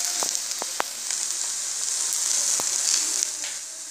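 Dried red chilies sizzle in hot oil while cooking dahi bhinda, a steady bright hiss with a few crisp pops and crackles near the start and midway.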